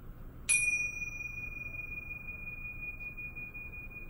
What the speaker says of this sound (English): So I'm going to ring this bell